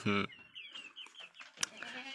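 Free-range chickens roaming and foraging on their own near a goat pen, clucking in short scattered calls with a sharper burst at the start and a brief knock midway.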